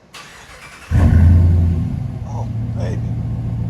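A 2018 RAM 1500 with a 5.7L HEMI V8 and Flowmaster Super 10 dual exhaust fires up about a second in, a loud, deep rumble that settles into a steady, throaty idle, with someone talking over it.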